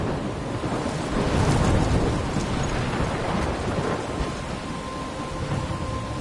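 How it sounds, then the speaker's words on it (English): A thunderstorm in a video game, with steady heavy rain and a low rumbling roll of thunder swelling briefly then easing, loud and continuous with no voices. "I'm trapped in a storm?"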